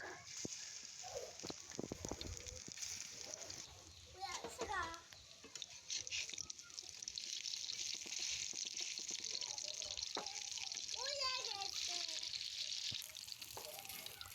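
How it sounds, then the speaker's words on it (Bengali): Bora fritters sizzling in hot oil in a home kitchen wok, a steady faint frying hiss running under a voice, with a voice and small clinks now and then. "তো এখানে আমি কড়াইয়ের মধ্যে তেল দিয়ে আমি বড়া দিয়ে দিলাম।"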